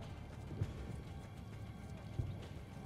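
Horse hooves clip-clopping at a steady trot in Assassin's Creed: Brotherhood, a soft continuous patter over low game ambience with a couple of heavier thuds.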